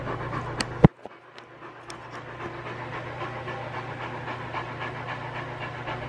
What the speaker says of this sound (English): It's the AC's on and you're still panting, huh?